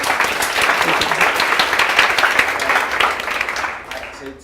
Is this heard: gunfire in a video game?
no